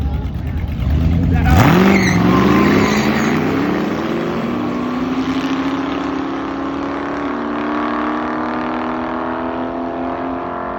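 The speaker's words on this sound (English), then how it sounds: "When Boss Hosses hit the drag strip, V8 motorcycles," Boss Hoss V8 motorcycles and a trike race down a drag strip. A loud engine roars in, then rising whines and rumbling pass-by tones sweep upward and trail off, with voices audible beneath.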